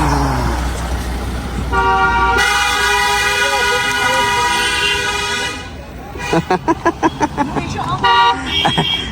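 Car horns honk in a packed traffic jam at a checking post in Kashmir: long, loud blaring horn tones, then a quick run of short repeated honks, with people talking over the traffic noise.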